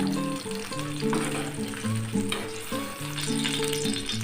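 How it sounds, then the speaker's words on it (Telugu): Vegetables for a Telugu bhindi and coriander pachadi fry in a pan, a steady close sizzle with occasional clinks and spoon scrapes over tonal background music, no talking. "ఫ్రై చేసుకుంటున్నాను ఇలా వేసుకుంటే బాగుంటుంది టేస్ట్"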